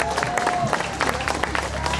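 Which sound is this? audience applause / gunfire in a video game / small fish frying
audience applause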